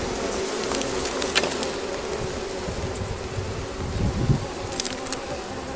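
A dense, steady buzz of many honey bees swarming close by around the front of a hive after smoking, continuous throughout with no voices.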